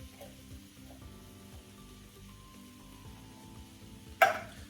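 Drained, rinsed tinned lentils added to a pan of prawns for dhansak, a soft steady sizzle with light stirring scrapes, ending in a sharp louder clatter near the close.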